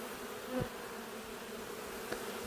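Honeybees crowd into a hive entrance in Newfoundland, giving a steady, soft insect buzz with a couple of brief louder passes close by.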